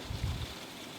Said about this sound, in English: So we took a little break and enjoyed the rainfall.